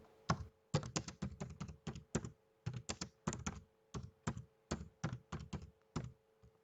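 Someone types on a computer keyboard in close, crisp bursts of keystrokes. The clicks come in irregular clusters with short pauses between them, and no voices are heard.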